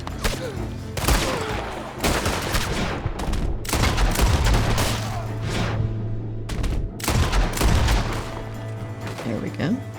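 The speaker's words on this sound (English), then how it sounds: "Who else wants to shoot at me?" Rapid gunfire in the video game Red Dead Redemption 2, a loud, dense fusillade of overlapping shots and booming blasts in bursts with brief gaps, heavy and close throughout.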